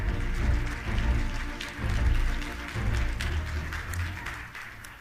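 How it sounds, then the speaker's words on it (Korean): Audience applause welcoming a presenter at a Software Maestro certification ceremony, rolling clapping that swells and dips in waves with low rumble underneath. "여러분 다시 한번 조재우 마에스트로님을 큰 박수로 환영해 주시기 바랍니다."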